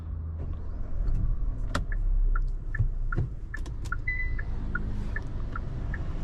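Hyundai Creta N-Line manual SUV pulling away, a low engine hum and tyre rumble from inside the cabin, with a series of short electronic beeps and a few clicks as it starts to drive.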